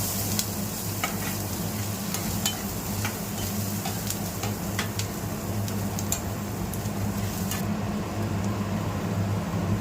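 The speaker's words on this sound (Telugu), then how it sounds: "1 టీ స్పూన్ అల్లం వెల్లుల్లి పేస్ట్ వేసుకుందాం. బాగా కలుపుకుందాం." Ginger garlic paste fries and sizzles in a pan, a steady close hiss broken by occasional clicking scrapes of a spoon as it is stirred, with no talk.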